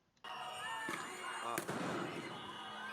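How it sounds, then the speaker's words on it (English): A flashbang grenade detonates with a sharp blast near the start, followed by a second loud bang, with a busy outdoor crowd and noise around it. "they deploy, it looks like a flashbang."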